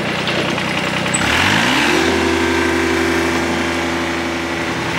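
A tractor engine strains to tow a pontoon boat trailer, idling steadily then rising in pitch as it revs up and holds a loud, constant drone with low rumble underneath.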